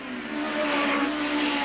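Hot rod race cars racing at Arlington in 1987, a steady, loud engine roar with a sustained whine as several cars run close together around the track, no voices over it.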